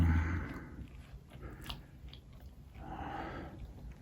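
Someone chews a pastrami on rye chaffle with melted cheese, soft close-up crunching and mouth sounds in two bursts, quiet and intimate with no talking.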